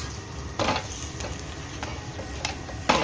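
A stuffed paratha frying in ghee on a griddle, a continuous close sizzle broken by several sharp pressing and flipping clacks at irregular intervals, with no voices.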